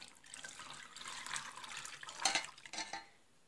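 Cooled vanilla cream being poured through a strainer onto eggs, a soft continuous liquid trickle and splash with a few brighter spatters near the end, quiet and close.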